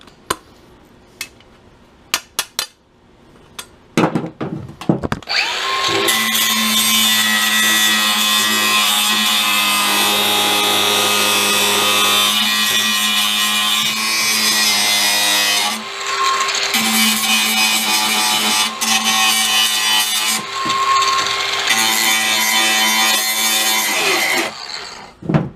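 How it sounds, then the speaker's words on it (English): A power tool, likely a grinder, whines loudly and steadily while cutting leftover metal pieces off a truck tailgate handle mount, after a few short taps, with a brief dip mid-cut before carrying on. "Cut off the extra little pieces that were on there"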